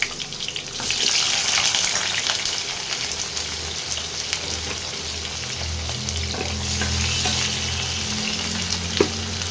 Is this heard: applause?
no